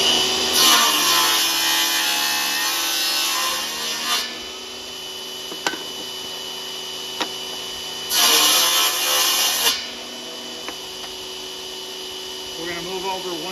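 A saw cuts wood set along a fence while building an arcade cabinet, with two loud, sustained buzzing cuts separated by quiet stretches with a few sharp clicks.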